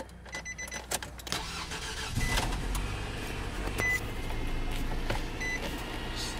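A 2012 Nissan Sentra engine cranks with a few clicks and a brief whir, catches, and settles into a smooth, moderately loud idle.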